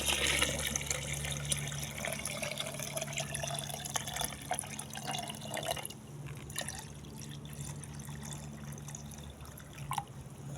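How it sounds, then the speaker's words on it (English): Coconut milk poured into a pot of Jamaican food with turmeric, cooking outdoors over a fire: a steady liquid trickle and fill running for most of the stretch, near and moderately loud over a low background hum, with no talking. "Add some coconut milk"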